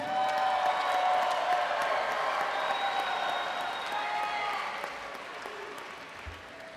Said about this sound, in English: Let's have a big cheer for the MIS graduates of 2014.